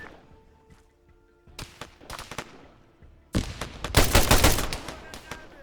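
Video game battle sounds with heavy gunfire and an explosion, scattered shots rising into a dense, loud burst of rapid fire and blast; a voice speaks faintly early on.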